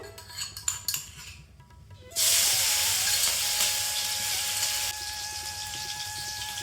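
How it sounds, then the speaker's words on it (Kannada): Crushed chilli and garlic hit hot oil in a pan for a leafy greens stir-fry, setting off a sudden loud, steady hissing sizzle after some quieter clinks of utensils, continuing strongly to the end. "ಈಗ ಚೆನ್ನಾಗಿ ಎಣ್ಣೆ ಕಾದಿದೆ. ಇದಕ್ಕೆ ನಾವು ಇಲ್ಲಿ ಕುಟ್ಟಿಟ್ಕೊಂಡಿದ್ವಲ್ಲ ಮೆಣಸಿನ್ಕಾಯಿ ಮತ್ತು ಬೆಳ್ಳುಳ್ಳಿ, ಅದನ್ನು ಹಾಕೋಬೇಕು"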